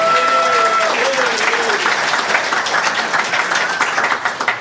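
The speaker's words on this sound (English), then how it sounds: "Big round of applause." Lively audience applause at an astronomy-themed quiz show, dense clapping from a sizable crowd mixed with a few cheers and whoops early on, strong and sustained before tapering slightly toward the end.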